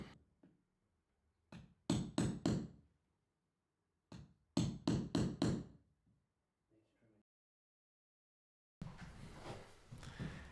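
A hammer drives a carpet tucker or flat-blade scraper to tuck a cut carpet edge into a threshold bar. It makes two quick bursts of about four sharp, close taps each, with quiet gaps between them.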